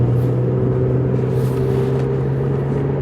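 A Rover 75 car engine heard from inside while driving, a steady low rumbling drone with a constant hum and no sharp revving.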